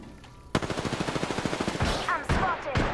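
Rapid automatic gunfire in a first-person shooter, a fast even stream of close shots lasting over a second, followed by a few heavier blasts and whooshing effects.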